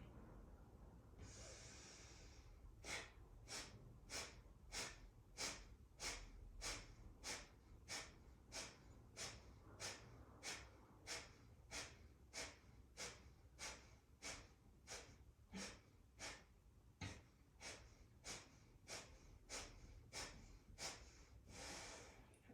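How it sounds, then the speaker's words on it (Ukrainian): Thirty forceful Kapalabhati pranayama exhalations are snorted sharply through the nose in a fast, even rhythm, each a short burst of breath, close and alone after a brief inhale. "Пранаяма Капалабхаті. Дихаємо 30 разів."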